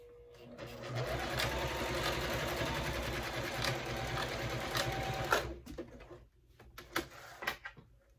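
A sewing machine runs steadily for about five seconds stitching the side seam of a budget bag, a close, continuous mechanical whir, then stops and gives way to a few scattered handling knocks.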